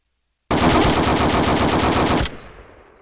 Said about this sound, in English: Now we're going to go to the long machine guns, long barrel machine guns.